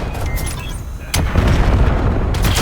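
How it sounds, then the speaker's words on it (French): Precision missile strike in a multiplayer domination match of a military shooter, a deep booming blast that hits hard and rumbles on loudly, with game sounds and faint voice chatter around it. "Déployez le missile de précision sur ces coordonnées."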